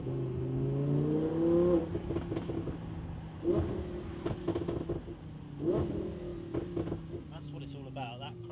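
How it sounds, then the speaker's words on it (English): A Lamborghini Huracan with a full custom exhaust revs, and the exhaust crackles and pops between rising engine notes. A voice can be heard alongside it. "That's what it's all about, that crackle there."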